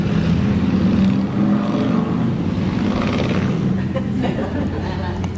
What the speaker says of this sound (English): Let the motorcycles go by.